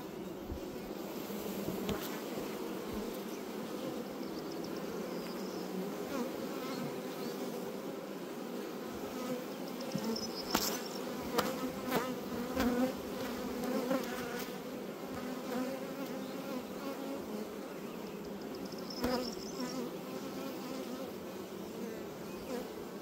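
Honey bees buzzing around an open beehive during an apiary inspection, a dense continuous hum from many bees with individual insects passing close now and then, steady and fairly quiet.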